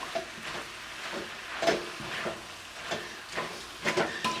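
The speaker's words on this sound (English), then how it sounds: "Stir all this in." Asian ground beef stir fry with noodles being stirred in a hot pan, with soft rhythmic scraping strokes over a quiet, steady sizzle.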